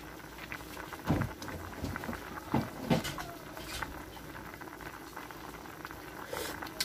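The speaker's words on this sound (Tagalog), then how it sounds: "Ayan, kulong-kulo na siya." Pork rib soup (nilagang buto-buto) boiling hard in a pot, a steady close bubbling and popping with a few louder sputters, no talking.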